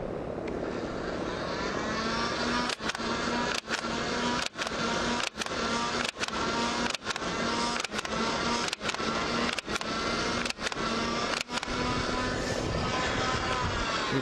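A modified Nerf Barricade flywheel blaster hums continuously at a loud, even pitch while about ten stock darts fire in a regular series of sharp, brief clicks spaced roughly a second apart.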